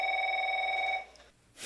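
A telephone rings in the 1995 film Se7en, one sustained electronic ring lasting about a second, fairly faint, then cut off into quiet.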